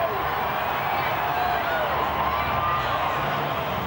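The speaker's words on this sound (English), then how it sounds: "Roar from the crowd as the Blues come back in front with 40 to go" A packed stadium crowd at a 2002 State of Origin rugby league game roars steadily and loudly throughout, a dense continuous wash of voices with no breaks.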